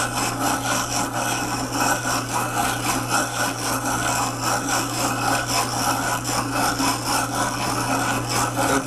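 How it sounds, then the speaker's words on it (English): A glass telescope lens being ground by hand in 17th-century fashion, giving a continuous, steady gritty rasping and rubbing that stays loud and close throughout, with no talk. "Once you start getting a curve generated at all, then it begins to grind faster and faster."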